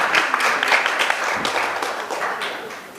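An audience at a Martin Luther King Jr. commemoration event for voting rights in Arkansas applauds, a loud dense wash of clapping that starts full and slowly thins out.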